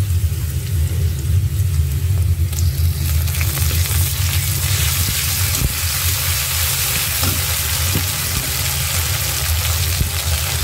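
Ginger paste fries loudly in a hot pan for a taro-leaf dish, a dense continuous sizzle with occasional light stirring knocks and a low rumbling background.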